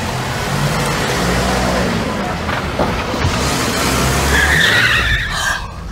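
Tires skid and squeal during a car chase, a loud sustained screech over engine roar, ending with a high-pitched tire squeal near the close.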